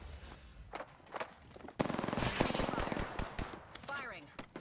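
Gunfire in the video game Apex Legends, a burst of rapid automatic shots up close, loud and dense for a couple of seconds after a few isolated pops, with a voice speaking over it.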